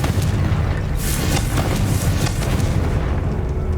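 A Confringo spell blasts in the video game Hogwarts Legacy, a loud booming explosion with a rumbling tail that fills the short stretch, alone without talk.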